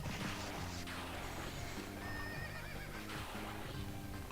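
A horse in a video game neighs and whinnies twice, loud and close over steady game music and background noise, with no talk.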